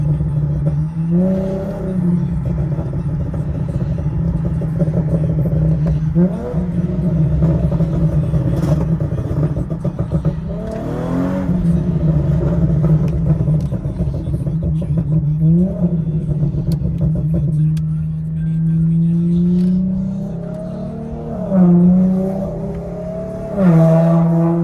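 A tuned Infiniti G37 engine runs loud and close, revved repeatedly in short sharp bursts that climb and drop back to a rumbling idle between them.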